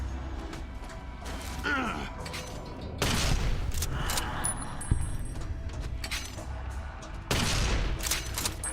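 Gunfire in the video game Fallout: New Vegas, several sharp bursts of shots and cracks over a busy background of game noise and movement, with a voice talking between the volleys.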